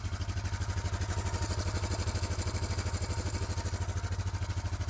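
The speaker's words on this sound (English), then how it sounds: "it's kind of a ticky engine, kind of has a chatter to it." A restored motorcycle engine idles close by in a steady rapid beat, with a ticky, chattering clatter from the cam chain and valves running through it, and no talking.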